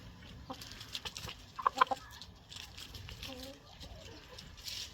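Chickens clucking nearby in short, irregular bursts, a few sharper calls standing out, with a person talking over them at times.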